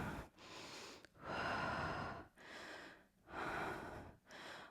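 During a cardio Pilates workout, a person breathes out forcefully in a steady rhythm, about four long exhales with short pauses between them, close and clear, with no talking.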